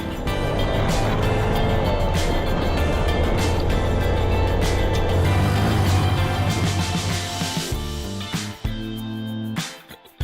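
Several Honda Monkey motorcycles ride with throttles held open in Baja, a loud, steady small-engine drone with wind rush that fades and breaks up toward the end.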